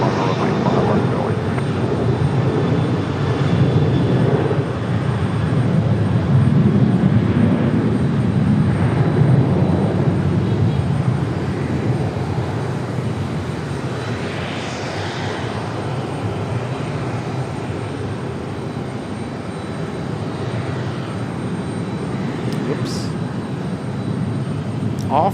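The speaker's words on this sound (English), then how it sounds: "Got a departure of an American 737." An American Airlines Boeing 737 departs Raleigh-Durham, a steady broad engine roar rising and holding near and loud throughout, with a voice speaking over it at times.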